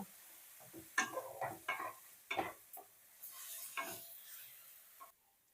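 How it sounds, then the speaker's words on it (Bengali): Poppy seed paste frying with onions in a pan, quiet sizzling broken by several sharp spatula scrapes and clinks, fairly close and fading out at the end. "পোস্ত বাটাটা দেওয়ার পর পেঁয়াজের সাথে ভালো করে পোস্তগুলো কষিয়ে নেব বা ভেজে নেব।"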